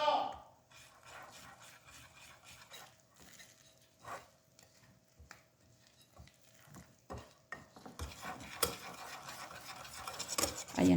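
Banana cake batter is stirred with flour in a bowl: soft, quiet scraping and mixing strokes, with louder clinks and rubbing toward the end.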